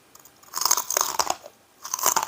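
Crisp, crackling crunches of pork rinds being chewed close to the mic, with two bursts of bites separated by a short pause, no talking.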